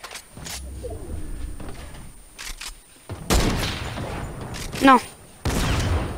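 Sniper rifle gunfire in a video game: sharp loud shots and bursts over game ambience, with someone speaking French briefly between them.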